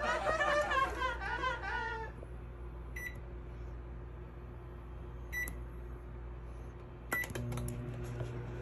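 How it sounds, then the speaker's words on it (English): A microwave oven heating a steak runs with a steady low hum, giving three short beeps spread across the run. A voice laughs briefly at the start. "Just to fry the steak in the microwave."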